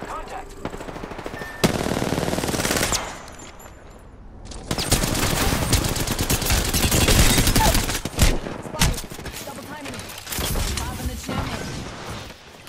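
Sustained bursts of gunfire in Apex Legends, rapid automatic fire and sharp shots crowding the mix in loud waves with brief lulls, while a player talks over the battle.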